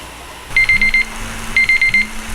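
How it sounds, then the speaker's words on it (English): A kitchen timer alarm sounds while breakfast sausage patties cook, giving two short bursts of rapid, high-pitched electronic beeping, each about half a second long, with a steady low hum underneath. "So when your timer goes off,"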